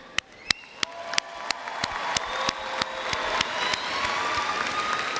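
Audience at a San Diego Mesa College commencement applauding professors, starting with a few sharp, spaced claps that quickly swell into broad, loud applause with scattered cheers.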